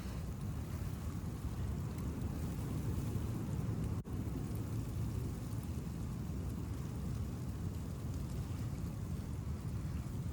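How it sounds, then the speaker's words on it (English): Blizzard wind roars steadily outside a tent, a dense continuous rushing with flapping fabric, loud and unbroken apart from one brief dip, with no talking. "You can listen to the wind."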